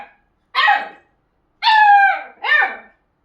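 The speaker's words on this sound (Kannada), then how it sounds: "ಇದು ನಾವು ಒಂದು ಬೀಗಲ್ ನಾಯಿ ಮರಿ ತಂದಿದ್ದೀವಿ" A beagle puppy gives three sharp, high yelping barks close by, the second drawn out, with short silent gaps between them.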